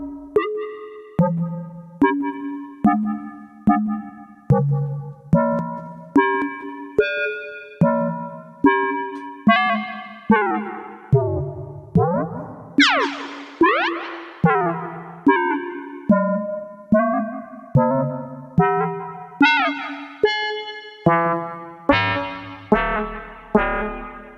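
A TiNRS Fenix IV synthesizer with a quantized operator ratio plays a steady run of short, evenly spaced plucked tones that decay quickly. Pitches step up and down, with a few sweeping glides in the middle, and there is no voice.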